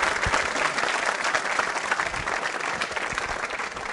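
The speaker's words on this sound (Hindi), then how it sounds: "आप तालियां बजाइए जोरों से इनके लिए" A school quiz show audience claps loudly and steadily, a dense continuous wash of many hands that holds at full strength throughout.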